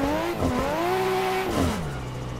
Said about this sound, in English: That turbo is so loud.